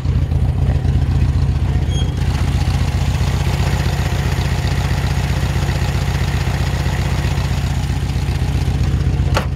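A 1968 Volkswagen Beetle convertible engine with an upgraded exhaust runs loud and close, a steady air-cooled idle with a rapid, even throb and light mechanical clatter throughout.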